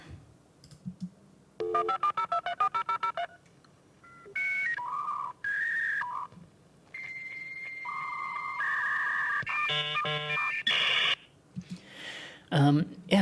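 A dial-up internet modem connecting: a quick run of loud touch-tone dialing beeps, then steady whistling tones and harsh warbling, screeching handshake bursts, all loud and close.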